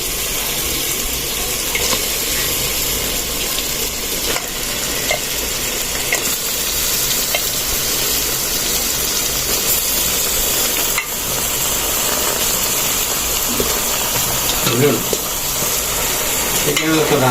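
Goose meat being stirred into spices frying in a pan, a steady close sizzle with scraping stirring throughout, no talking.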